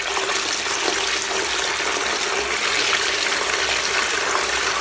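A DC60G-24120S micro circulation pump pushes water with a steady, dense rushing and gushing wash, a faint motor hum beneath, continuous and fairly loud with no talk.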